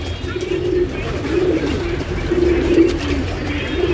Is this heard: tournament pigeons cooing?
yes